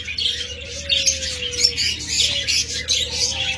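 A pair of caged pet lovebirds gives sharp, rapid squawks and chirps close by, steady bursts of shrill calls over a low, constant background hum.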